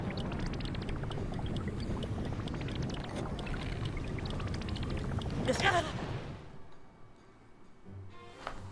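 A waterfall in the video game Zelda: Tears of the Kingdom roars as a steady wash of rushing water, loud and continuous, then drops away sharply near the end, with a voice talking at times.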